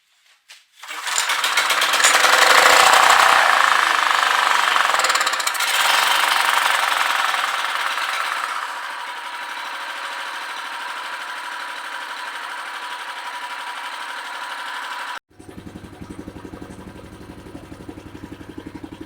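A rotary tiller's petrol engine fires up after carburetor spray, roaring loudly and revving high before dropping to a steadier, quieter run, then cutting briefly to a lighter rattling idle.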